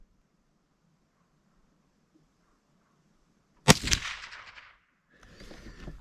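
A single sharp, loud crack from a Henry lever action .22 Magnum rifle firing Federal 50 grain ammunition breaks a near-silent stretch, followed by a ringing echo and later some faint rustling.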